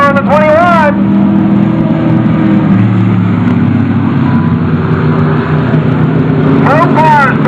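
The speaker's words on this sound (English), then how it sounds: "Both cars battling out for the lead." Race cars in a women's powder puff event at Roaring Knob drone steadily as they battle side by side for the lead, with a continuous, loud engine roar and an announcer talking at the start and end.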